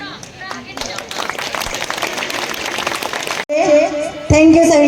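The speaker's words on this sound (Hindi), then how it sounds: "जोरदार तालियां हो जाए।" Audience clapping at a school annual dance event, dense crowd applause filling the first three and a half seconds before it cuts off, followed by a voice speaking over a loud amplified backdrop.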